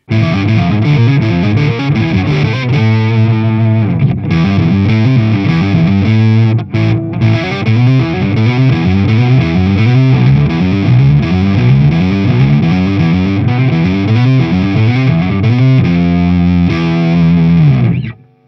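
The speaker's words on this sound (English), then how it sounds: "trying to make it sound like an arpeggiated synth. And if I get some more distortion" Distorted electric guitar through a Boss OC-3 Super Octave pedal playing a rapid, synth-like arpeggio with an octave-up shimmer, loud and continuous, pausing briefly midway before carrying on.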